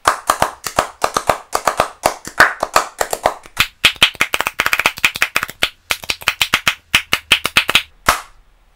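Sharp, clap-like smacks made by striking with a rubber-headed kitchen spatula, played one-handed in quick rhythmic bursts and patterns, close and dry, with short pauses between runs of hits.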